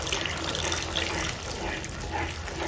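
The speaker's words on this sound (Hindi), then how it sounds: "डाल देते हैं पानी। पानी आप अपने अनुसार इसमें ऐड कर सकते हैं।" Water being poured into a pan while cooking veg manchurian, a steady close splashing stream heard alone for a few seconds.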